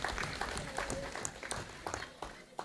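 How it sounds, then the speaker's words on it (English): Faint, scattered clapping from a crowd at a women's convention, uneven and fairly distant, with some murmuring voices underneath. "Give them a round of applause again"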